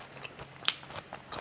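Several crisp bites into hot, crispy McDonald's fries, sharp crunches spaced irregularly and heard close up, with quiet chewing between them and no talking.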